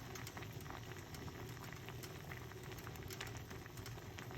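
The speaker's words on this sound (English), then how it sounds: "So we just make it boil a little bit." Onion tea boiling in a pot: a steady, close bubbling roar with dense popping and hiss that holds evenly throughout, no voices.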